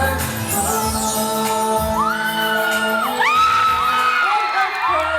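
Fans shriek and cheer throughout a packed Music Museum concert hall during a performance, a dense, continuous wall of high-pitched crowd screaming with music tones running beneath it.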